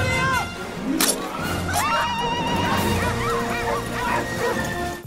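A dog barks loudly and yips, then whimpers and whines in rising, wavering cries, close and continuous for a few seconds, with a voice speaking faintly underneath.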